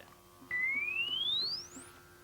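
A single pure electronic test tone for checking a loudspeaker, sweeping smoothly upward in pitch for about a second and a half over a low steady hum.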